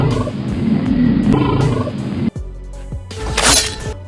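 Tiger attacking a wild boar in the wild: loud, rough snarling and growling roars with heavy scuffling, a brief break, then sharper snarls and squeals close to the listener.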